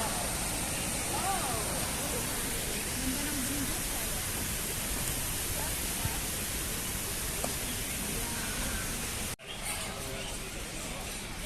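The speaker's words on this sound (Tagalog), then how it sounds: "Malakas kasi impact ng tubig kaya bumubula siya doon." Strong water flow pouring into a park fountain in Tuen Mun Park, Hong Kong, foaming where it hits, makes a loud, steady broadband rush that continues alone before a brief break near the end.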